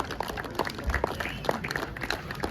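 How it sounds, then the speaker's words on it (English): Crowd at the BRCA National 4WD RC car race grid applauding, a scattered, moderately faint patter of clapping hands continuing steadily without speech. "keep that cheer round of applause"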